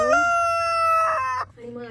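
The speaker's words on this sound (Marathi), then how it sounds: "सगळे शेतावरचे प्राणी एक इकोसिस्टमच आहे, अगदी ह्या कोंबड्या पण।" A rooster crows on a homestead farm, close and loud, with one long, drawn-out call that breaks off, followed by a shorter second call.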